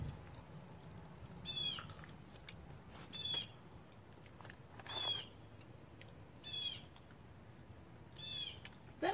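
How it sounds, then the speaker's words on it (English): A bird calls repeatedly in the background, with five or six short, faint whistled cries spaced roughly every one and a half seconds over a low indoor hum. "That bird don't be quiet."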